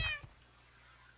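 A single short meow from a black or white cat in Minecraft, fairly close and clear, fading into quiet game ambience.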